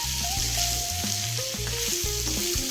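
Spice masala sizzles steadily in a pan alongside bitter gourd pieces, a dense continuous frying hiss with a low background hum, close and fairly loud, no voices.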